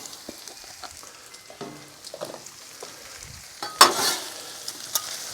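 Cabbage and shrimp fry on a Blackstone griddle with a low, steady sizzle broken by scraping spatula strokes and clinks, then a louder burst of sizzle as the food is turned.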